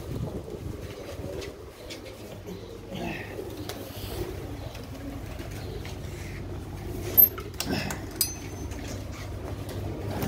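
Pigeons kept at a loft in Kurukshetra give low, intermittent coos against a quiet, breezy background, with a few sharper knocks and wing sounds near the end.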